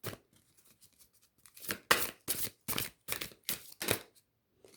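Cards being shuffled and drawn from an angel oracle deck, a series of close, crisp papery swishes and snaps that quicken into a rhythmic run of sharp flicks.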